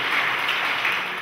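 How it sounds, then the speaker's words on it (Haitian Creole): Applause from an audience at a Polish community solidarity day in Haiti, a dense steady wash of clapping heard from a distance for about a second. "Applaudissez nos filles, comme l'a dit Chantal."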